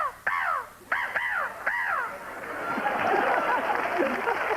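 A man imitates a crow's caw with his voice, three loud rasping cawing calls in quick succession, followed by crowd noise and laughter from a studio audience.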